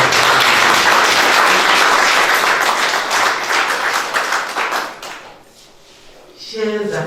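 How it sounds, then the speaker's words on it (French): Audience applause fills a ceremony hall honouring a woman, dense steady clapping for about five seconds that fades, then a voice begins speaking at the end. "Je voudrais qu'on applaudisse pour cette femme d'abord."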